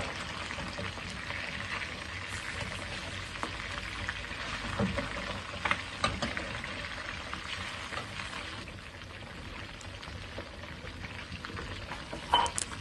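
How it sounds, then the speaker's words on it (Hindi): Fish pieces fry in a pan of hot oil for a Pakistani masala fish curry, a faint, steady crackling sizzle with occasional louder pops and spatters throughout. "अब मैं इसमें फ़िश को एक एक करके फ्राई कर लूँगा"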